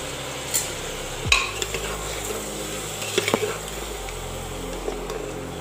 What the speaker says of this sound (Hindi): और टमाटर डालने के बाद इसको अच्छे से आप मिक्स कर लीजिएगा।